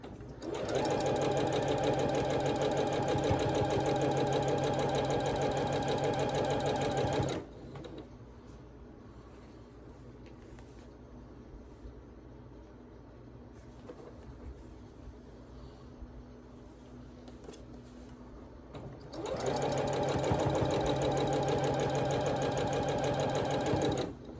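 A domestic sewing machine stitches a quilt block for a barn star sampler, running loud and steady for several seconds, pausing into a quiet stretch, then starting up again at full speed near the end.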